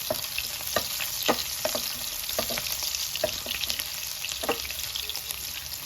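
Cumin seeds, bay leaf, chopped onion and green chillies frying in oil, a steady close sizzle dotted with sharp crackling pops and the occasional scrape of stirring, no talk.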